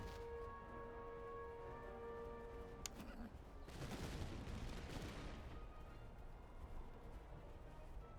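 Musket gunfire in the Master of Command strategy game: a crackling volley of shots around the middle, heard at a distance over a steady ambient battlefield bed, fairly quiet.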